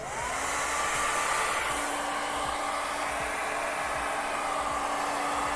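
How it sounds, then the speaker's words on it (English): A hair dryer blows on freshly airbrushed paint on custom Minnie Mouse pants, a loud, steady, close whooshing roar with a constant motor whine that runs unbroken throughout. "Maybe I'll blow dry it"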